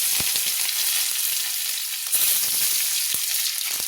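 Chopped garlic, ten to twelve cloves, sizzling in hot oil for a Bengali prawn dish, a bright steady crackle with sharp little pops, close up and without speech.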